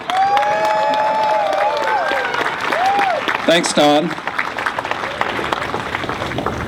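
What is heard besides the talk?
crowd applause at a ride opening ceremony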